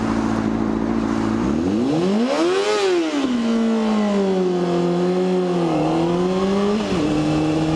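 A motorcycle engine revs up and down several times, its pitch climbing and dropping, loud and close over constant wind noise.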